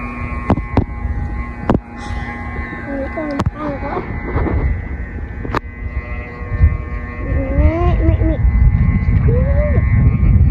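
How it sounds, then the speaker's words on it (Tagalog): Strong monsoon wind roars and buffets the microphone with a steady low rumble, punctuated by sharp clicks and voices talking intermittently. "Lakas ng hangin."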